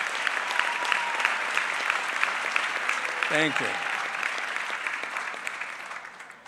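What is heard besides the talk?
applause for graduation staff and administration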